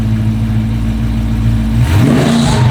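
Supercharged LSA V8 in a 1969 Chevrolet Camaro SS restomod idling with a steady lumpy rumble, then revving sharply near the end with a rising supercharger whine, loud and close.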